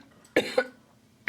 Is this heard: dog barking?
no